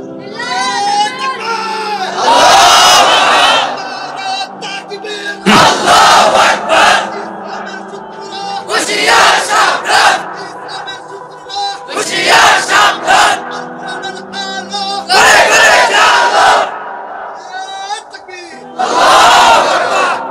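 A large crowd at an Islamic religious gathering loudly shouts a takbir chant in repeated bursts, each roar answering a lead voice, with brief pauses of talk between the chanted waves.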